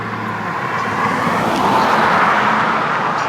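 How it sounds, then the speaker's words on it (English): A car passes by on a road outdoors, a steady close broadband whoosh that swells slightly and stays loud through the moment, with no talking. "let this car go by."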